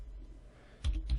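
Short burst of typing on a computer keyboard, a few quick close key clicks after a quiet pause, with no talking.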